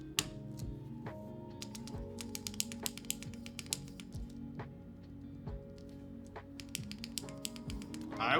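Fingers type steadily on a newly built Suisei by Kibou mechanical keyboard with switches fitted, giving a close, quiet run of irregular clacks and taps.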